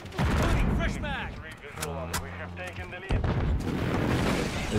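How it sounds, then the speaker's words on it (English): Airstrike explosions in a Call of Duty match, heavy booming blasts and rumble, loud and continuous, mixed with game voice callouts. "Precision airstrike, standing by."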